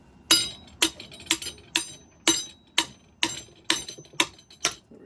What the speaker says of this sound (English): Use a real hammer.